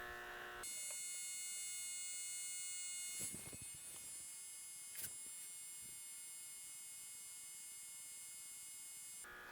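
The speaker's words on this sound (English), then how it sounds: "that's 120 volts AC going into that little piezo disc" A small piezo disc driven straight from 120 volts AC gives a loud, steady, harsh electrical buzz close by, running almost unbroken apart from a couple of brief crackling disturbances.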